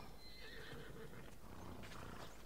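A horse in the video game Assassin's Creed Odyssey gives a clear neigh with hoof clip-clops around it, all heard quietly with no talking.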